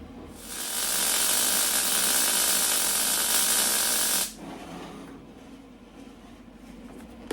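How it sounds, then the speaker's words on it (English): An arc welder puts tack welds on the floor tunnel of a 1972 VW Super Beetle, giving one loud, steady, crackling hiss of about three and a half seconds. A quieter background hum follows. "we're going to get the welder hooked up and start tacking it in"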